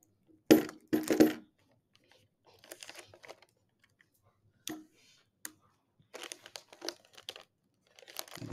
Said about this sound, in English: Then we'll tape the other side.